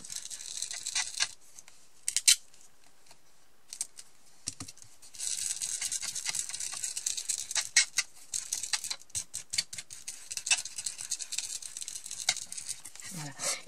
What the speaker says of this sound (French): je tamponne un petit peu pour ma mousse